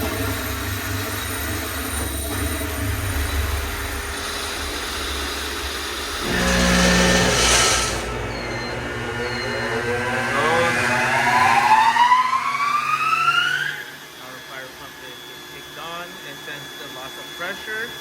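A fire pump engine in a building's pump room runs during a weekly test, a steady mid-pitched drone with a burst of louder noise and a rising tone near the middle before the level drops, and talk is heard over it.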